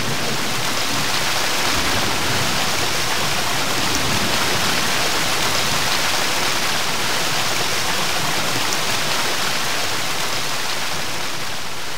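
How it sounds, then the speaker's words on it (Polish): A waterfall in the video game Gothic 2 pours as a loud, steady broadband rush of falling water that continues unbroken throughout, with no voices over it. "Nie chciałem nic mówić w czasie tego wodospadu, bo ledwie siebie słyszę"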